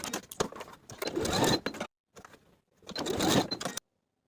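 Sewing machine basting elastics to the edge of a dress panel, two close, loud bursts of rapid needle stitching separated by a short pause, with no talk.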